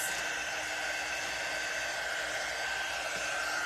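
Hair dryer blowing on ChalkSuede paper, a steady, loud, continuous whoosh with a constant whine, running alone without talk.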